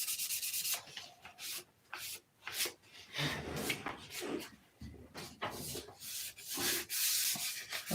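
Sandpaper rubbed back and forth over a surface while tissue is being readied for one side, giving repeated rasping strokes of uneven length, close and fairly loud, with no talk.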